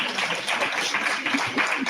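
Applause for a guest joining a live stream at United Airlines headquarters, a brief dense patter of many hands clapping, fairly close and steady, with no talk over it.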